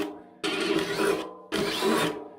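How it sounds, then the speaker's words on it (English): Two bursts of a step drill bit biting through material on a sim racing rig, each about a second long, loud and close, with a steady motor hum between them. "Now I can step that drill bit up."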